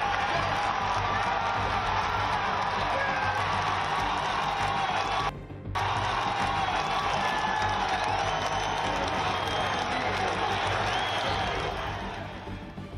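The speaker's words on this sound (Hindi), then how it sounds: "जब ट्रंप उठे, उन्होंने मुट्ठी भींचकर हवा में लहराई तो भीड़ ने शोर मचाकर उनका हौसला बढ़ाया" A large crowd roars and cheers at a Trump rally after the shooting, a dense, sustained wall of shouting and applause that briefly cuts out midway and then carries on.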